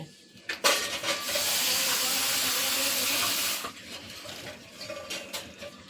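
Gobindobhog rice rinsed under running water in a kitchen sink, a steady splashing gush lasting a few seconds, then fading into light clinks and drips.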